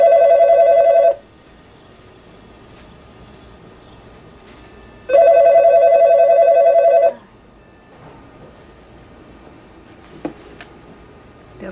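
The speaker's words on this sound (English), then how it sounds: "The phone interruption" A telephone rings twice in a quiet room, two loud, evenly pitched electronic ring bursts of about a second and two seconds separated by a pause, with faint room noise between.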